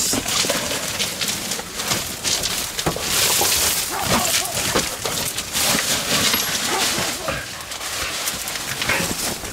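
Dogs bark and whimper while hunting a rat in a backyard, excited yips and barks scattered throughout amid rustling, with people talking and calling to them.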